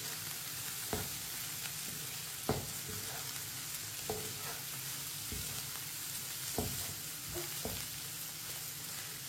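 Bottle gourd sabzi with garam masala sizzles in a pan as it is stirred, with a constant frying hiss and scattered soft scraping knocks of the spoon, heard close and without speech.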